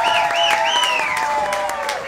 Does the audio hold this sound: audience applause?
yes